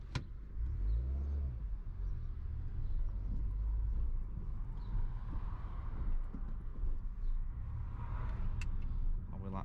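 A Mini John Cooper Works R55 engine drones steadily while the car is driven, a continuous low rumble with mild swells in revs, fairly loud and close throughout.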